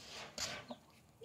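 A broody hen gives a few soft, short clucks, faint and close in a quiet setting.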